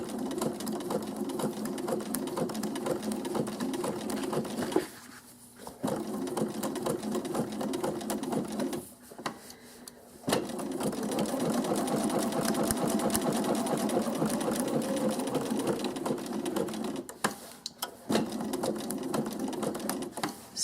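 A sewing machine runs in steady stitching bursts while appliqué fabric is sewn, its close mechanical whir broken by short pauses around 5, 9–10 and 17 seconds where the work stops, lifts and pivots.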